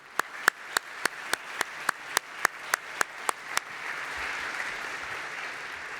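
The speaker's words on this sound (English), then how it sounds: "A round of applause, please." About a dozen crisp, evenly spaced claps ring out in a synagogue sanctuary for a rabbi, then give way to a softer murmur of scattered applause and room noise.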